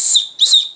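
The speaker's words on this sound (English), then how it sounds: "has a whistle that's probably sounds pretty cheesy" A small survival whistle on the lanyard of a Bear Grylls Ultimate knife gives two short, shrill, high-pitched blasts, each fading quickly, close and loud with no talking.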